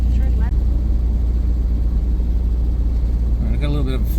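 An MGA with an aluminum hardtop drives along under steady low engine drone and road noise, the running engine loud and continuous throughout, with brief voice-like tones near the start and end.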